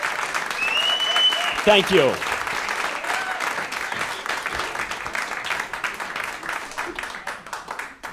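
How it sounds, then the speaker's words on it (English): A round of applause from a live comedy and magic show audience, dense clapping that swells early and gradually thins out, with a brief spoken thanks and some whistling over it. "Give them a round of applause."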